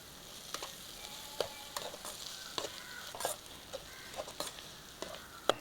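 Onion, slit green chillies and chopped coriander leaves sauté in a pan, a soft, quiet sizzle with a string of sharp spoon taps and scrapes against the metal, heard alone without talk.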